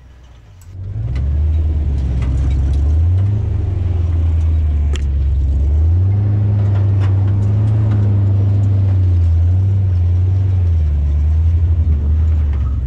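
An old offroad truck climbs over obstacles, its engine loud and close as it rumbles and revs in repeated surges, with occasional knocks and clunks from the rough terrain.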